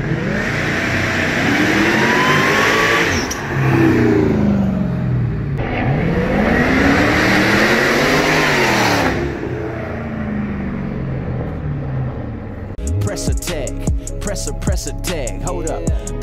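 A supercharged Mercedes SL500 with an M113k engine, headers and straight pipe exhaust revs hard in several loud sweeping bursts, closing with a stretch of choppy, crackling engine noise.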